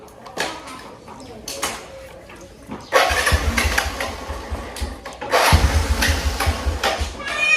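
A motorcycle's electric self-starter cranks in two loud bursts in a village setting, the engine apparently not catching, with quieter clatter and handling noises between attempts.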